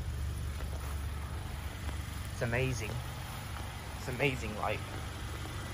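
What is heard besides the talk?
car engine idling quietly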